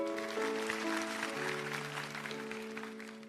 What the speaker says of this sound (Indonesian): Puji Tuhan, kasih tepuk tangan untuk Tuhan.